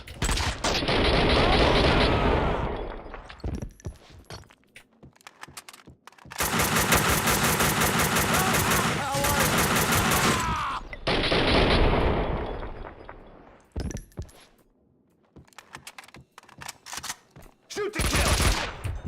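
Heavy automatic gunfire from the Max Payne 2 video game, long loud bursts of rapid shots broken by short pauses, with a player's voice shouting briefly between volleys.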